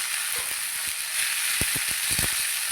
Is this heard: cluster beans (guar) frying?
yes